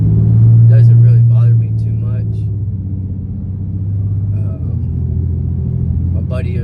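A modified Ram 2500 Cummins diesel pickup towing a massive camper rumbles along with a steady low engine drone, a firmer downshift partway through, and people talking intermittently over the cabin noise.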